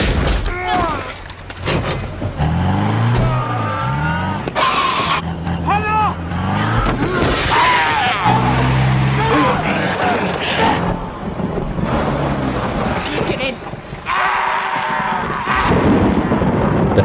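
A car crashing through a locked gate in a zombie film: a loud, continuous engine roar with metallic clatter and impacts, mixed with chaotic action noise and voices.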